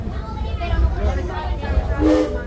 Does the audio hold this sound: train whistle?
yes